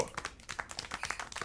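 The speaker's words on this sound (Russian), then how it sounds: "Чему вы хлопаете?" A small crowd applauds in a scene from the video game Syberia: The World Before, with sparse, uneven hand claps that rise and fall in a loose rhythm.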